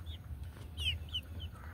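Young pullet hens cluck softly a few times, short faint calls over a low steady hum, with no talk.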